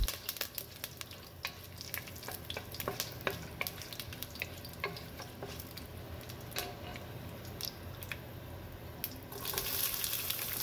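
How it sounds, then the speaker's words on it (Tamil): Mustard seeds spluttering in hot oil for chow chow kurma, a continuous close sizzle scattered with sharp popping crackles throughout, louder toward the end, with no voices. "எண்ணெய் நல்லா சூடானதும் கடுகை தாளிச்சிக்கிறேன்"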